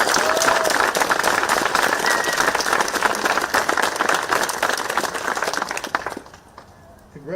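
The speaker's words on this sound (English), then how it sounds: "So let's give Carla a round of applause." Audience applause at a public library's grand reopening, a dense, fairly close burst of many hands clapping that holds for about six seconds and then quickly dies away.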